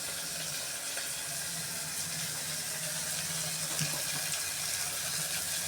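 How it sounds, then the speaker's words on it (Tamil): Water runs steadily from a tap as potatoes, brinjal and raw plantain are rinsed, with a constant splashing hiss up close and no talking. "அதான் தண்ணியை விட்டு அலசி எடுத்துடலாம்"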